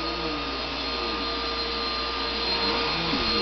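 A household vacuum cleaner runs steadily and loud throughout, a constant motor whine with a broad rushing airflow, close by during home cleaning.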